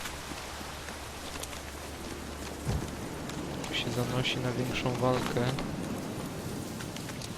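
Steady rain falls in a stormy outdoor scene in The Witcher 3: Wild Hunt, a constant hiss that continues under someone talking and game sounds.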